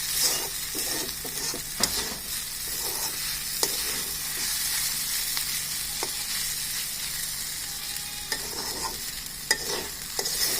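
Egg chow mein noodles stir-frying in a pan give a steady, close sizzle, broken by repeated scraping and tossing strokes of the spatula, with no voices.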